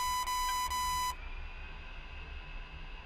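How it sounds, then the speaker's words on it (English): Radar warning receiver in a DCS A-10C flight simulator cockpit: a steady high electronic beeping tone that cuts off after about a second, leaving a low cockpit hum and hiss. "That beeping is the RWR."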